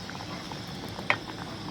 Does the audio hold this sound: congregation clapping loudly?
no